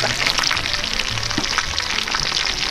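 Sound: diskata cooking on an SW Disks outdoor disk cooker

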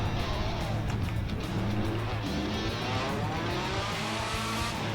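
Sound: Ferrari F1 car driving in video game GTA 5

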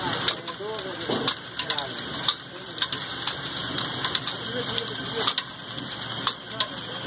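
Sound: old Ruston Hornsby 18 horsepower engine running a flour mill

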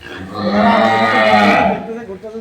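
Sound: cow mooing

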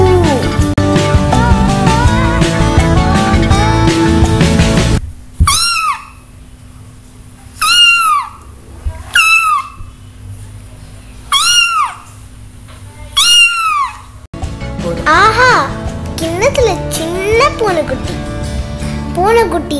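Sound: kitten meowing

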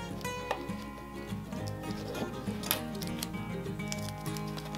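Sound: razor blade cutting through material wrapped for fly fishing

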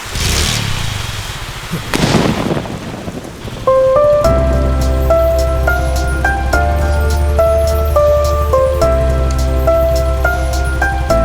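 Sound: rain falling

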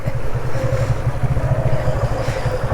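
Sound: boat splashing through water

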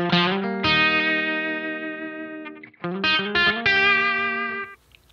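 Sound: guitar amp with short slap tape echo effect

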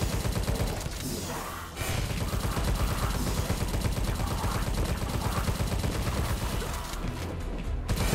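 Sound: gunfire in the video game Tesla Force

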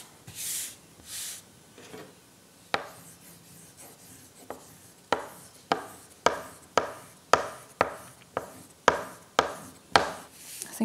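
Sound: burnishing a freezer paper image transfer onto wood

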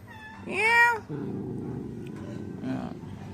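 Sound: cat meowing

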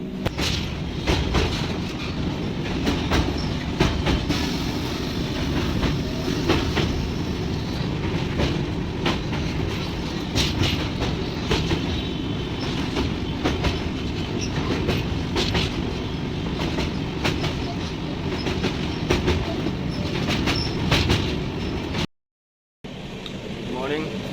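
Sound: inside a moving train, wheels clattering on the rails

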